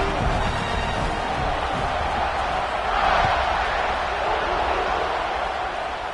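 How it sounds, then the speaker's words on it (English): A football stadium crowd roars continuously before kickoff in a Longhorns versus Bulldogs game, a dense far-reaching wash of cheering that swells slightly midway. "They're set to kick it off, and this crowd now ready to get behind them"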